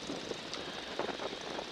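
A Navy Stearman biplane's engine drones steadily in flight near a landing approach, a low, even roar heard from inside with wind noise, fairly faint and brief, with no talk.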